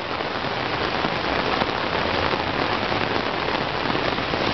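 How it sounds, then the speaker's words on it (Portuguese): Light rain falling on a street in Vila Regina, Itaquera, São Paulo, a dense even patter of drops close by with no other sounds. "Olha como que tá, ó. Com essa chuvinha."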